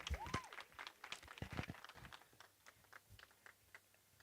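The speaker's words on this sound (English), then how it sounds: "Another round of applause for Cecilia and Ndlovu" Audience applause at a women's bubbles and nibbles soirée, scattered hand claps from a modest crowd that start strong and thin out over a few seconds, with a brief voice near the start.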